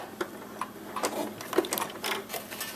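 Sewing machine stitching a separating zipper into a jacket, with quiet, irregular mechanical ticks and short clatters in a low-level stretch and no talking.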